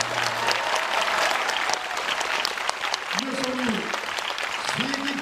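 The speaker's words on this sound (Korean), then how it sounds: "박수 한번 다 주세요" A studio audience claps loudly and continuously at a Korean variety show featuring two performers, with brief voices calling out over the dense applause.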